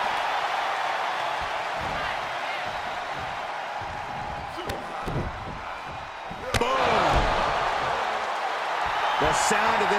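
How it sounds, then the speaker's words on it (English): Arena crowd in the wrestling video game WWE 2K23, a steady loud roar under ring action, with sharp slams and thuds cutting through and a commentator's voice speaking over it. "The sound of this crowd is deafening, and he's asking for more."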